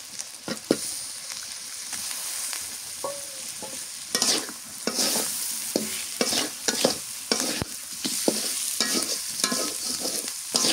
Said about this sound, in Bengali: মাছটা কষানো হয়ে গেছে